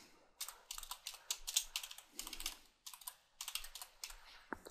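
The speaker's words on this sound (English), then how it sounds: "You got an affiliate program or something that you like, you type it in." Bursts of rapid typing on a computer keyboard, close and crisp, in short runs separated by brief pauses, with quiet clicks between the runs.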